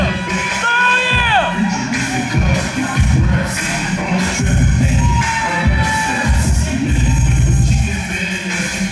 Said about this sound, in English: You stand up and you clap.